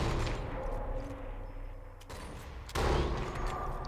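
Gunfire in the sniper shooter game Sniper Elite 4, a few sharp loud shots with booming tails, including a big blast near the end, with no talk over them.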